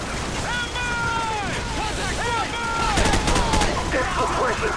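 Sustained automatic gunfire in Call of Duty 4: Modern Warfare, bursts rattling through a loud battle mix with shouted voices and sweeping tonal effects, denser crackling shots clustering toward the end.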